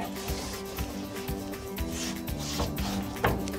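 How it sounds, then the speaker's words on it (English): A scrub brush dipped in cleaning solution rubs dirt off a washer in quick, repeated close strokes, a soft rasping scrape with no speech. "I'll again dip this scrub on in the solution and I'll apply here. And simultaneously, I'll scrub it as well."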